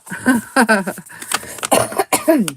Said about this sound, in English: Me coughing.